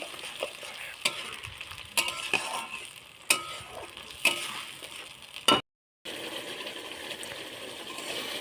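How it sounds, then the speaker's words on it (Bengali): Spices sautéing in a pan with cumin, onion seeds and bay leaf, a continuous sizzle broken by sharp spatula scrapes and clinks roughly every second, then a brief cut before the sizzling resumes. "তেজপাতা দিয়ে মশলাটা দিয়ে দিলাম। এখন কষিয়ে নিচ্ছি।"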